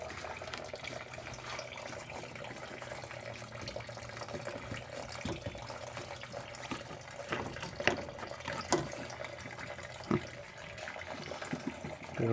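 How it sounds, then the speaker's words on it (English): Coolant draining and splashing from a disconnected radiator hose on a Toyota 7M-GE engine during head gasket teardown, a steady close trickling liquid flow with occasional small clanks, no talking. "some coolant's gonna splash out of here too."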